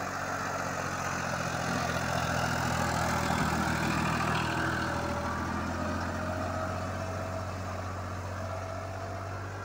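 A New Holland 3037 39 HP tractor with a tiller attached runs with a steady, low, droning engine hum at an even pace throughout, with no speech.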